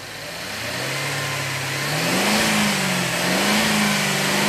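A car engine fitted with a MAF sensor revs up from a steady idle. The pitch climbs and holds high, then dips and rises again in a loud, continuous drone with no talking.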